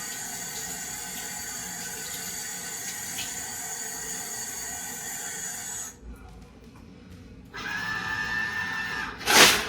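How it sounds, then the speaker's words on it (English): Tap water runs steadily over rinsing hands for about six seconds, drops out briefly, then returns with a splashy burst near the end. "rinse your hands under running water"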